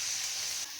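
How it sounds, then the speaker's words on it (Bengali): Onion and tomato frying in a pan, a short steady hiss of sizzling, close and even, with no voices. "এবারে আমি পেঁয়াজ আর টমেটোটা ভেজে নেব"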